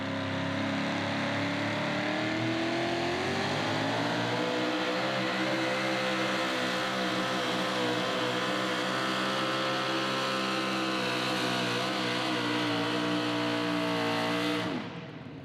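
A Pro Modified 4WD truck at a truck pull in Wheatland, Missouri holds its engine at full throttle, a loud, dense roar that climbs in pitch early on and then holds steady before cutting off abruptly.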